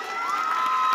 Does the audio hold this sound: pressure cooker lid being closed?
no